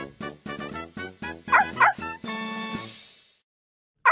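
Several short, high yips and barks from a cartoonish puppy in a Dora the Explorer video game, fast and bright, with an excited voice chiming in, then a fading musical chime.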